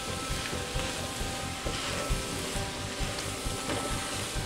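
Huitlacoche is stirred with cooked ingredients in a hot pan, giving a steady sizzle with soft rhythmic scraping strokes, close and fairly quiet, with no talking.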